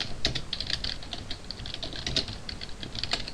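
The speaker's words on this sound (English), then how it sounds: "can't talk and type at the same time" Rapid clicking of keys on a computer keyboard, a quick irregular run of close, crisp taps, fairly quiet and with no talking.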